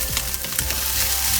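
Mourala fish frying in hot oil makes a brief, close, steady sizzle with a few small crackles.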